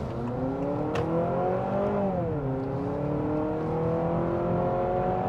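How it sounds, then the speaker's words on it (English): A 2026 Honda CR-V Hybrid Sport Touring in sport mode accelerates hard, its engine note rising steadily, dipping briefly as it shifts, then climbing again in a loud, continuous drone with no talking. "We can try it out in sport mode one more time, open her up a little bit. Sport mode, on the gas."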